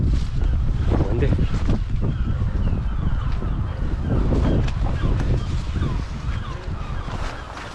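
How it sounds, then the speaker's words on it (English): Strong, steady wind gusting around an abandoned, fire-damaged church in Scotland, buffeting the microphone with a heavy low rumble throughout. Faint voices sit underneath. "Windy."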